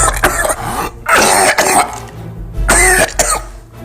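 A man coughs harshly in several close, loud bursts, with short pauses for breath between them.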